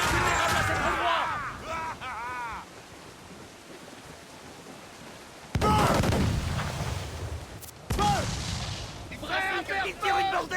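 Heavy ship cannons fire a broadside in a video game, with deep booming blasts and rumbling roar in bursts, while game voices and music play over and around them.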